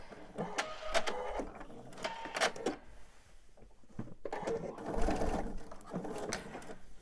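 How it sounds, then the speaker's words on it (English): A home sewing machine stitches a quilt star block seam slowly, its needle running in short bursts with pauses between, close by, with faint handling noises and no talk. "I'm just going to sew nice and slow"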